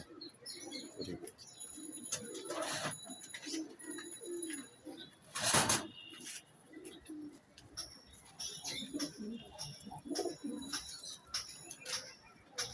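Soft, repeated cooing of pigeons, low throaty calls recurring throughout, with faint chirps and a brief burst of wing flapping midway; a pair of Naptha pigeons.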